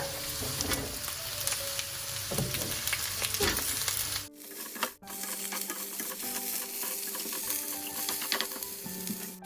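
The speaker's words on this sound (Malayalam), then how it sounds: "ജസ്റ്റ് 2 മിനിറ്റ് ഹൈ ഫ്ലെയിമിൽ ഇട്ടിട്ടൊന്ന് സോട്ട് ചെയ്തെടുക്കും" Vegetables with broccoli sizzle and crackle in a hot pan on high flame as they are stirred, with scraping and clinking of a utensil throughout and a brief pause midway.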